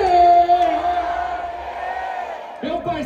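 A crowd at a Brazilian rap battle shouts a sustained chant together, loud and close, with voices blending into one long held yell before a brief pause and a new burst.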